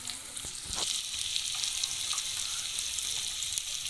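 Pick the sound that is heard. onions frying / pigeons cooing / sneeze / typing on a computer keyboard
onions frying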